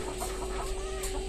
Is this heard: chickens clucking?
yes